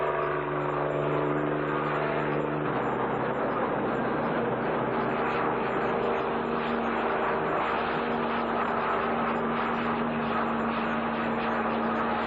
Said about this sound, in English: Get the copter up and away from the road.